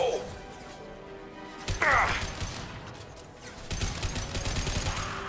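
Gunfire in the sci-fi shooter Mass Effect during a fight with Vorcha, fired with incendiary ammo: dense, sharp bursts of shots mixed with clatter and crashes, swelling midway and again near the end, with voices speaking over the action.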